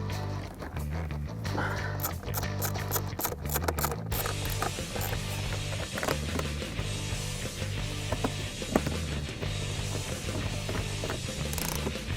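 A ratchet drives the belly pan screws back in on a Ford Focus ST during a ram air intake scoop install, with quick rapid clicking runs, pauses, and clanking metal handling, close by under a steady low background hum.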